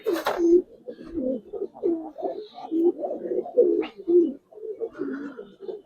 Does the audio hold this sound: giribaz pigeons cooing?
yes